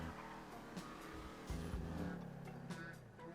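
Upgraded car in GTA roleplay driving along rough roads, engine droning steadily at moderate volume with gear and rev shifts, a brief thump midway and faint road noise throughout, no speech.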